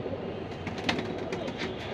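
Pigeons coo softly at a busy pigeon market, their low calls blending into a dense, steady backdrop of crowd and market noise with a few brighter chirps.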